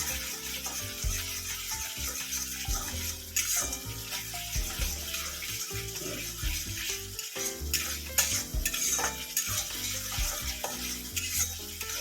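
Malai pabda fish masala stirred and sautéed in a pan, with steady sizzling and frying and repeated scraping strokes of a spoon against the pan over about twelve seconds, no talking.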